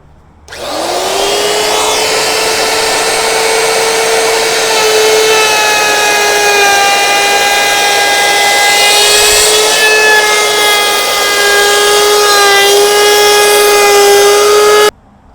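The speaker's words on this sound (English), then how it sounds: "So what I'm going to do now is actually router the back side of this piece." A wood router cuts along the back side of a wooden display piece for a military retirement gift, one loud continuous whining drone starting abruptly and holding steady close up until it stops.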